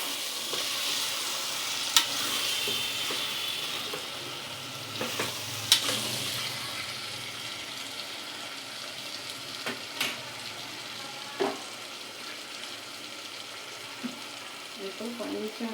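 Mutton gravy sizzles and fries steadily in oil while a spoon stirs through it, with occasional sharp scrapes and clinks against the pan across the whole stretch.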